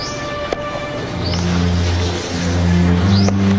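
Car engine close by on a street during the 2004 Aceh tsunami aftermath, a steady droning hum with revving swells and brief squeals, sounding like a vehicle moving past.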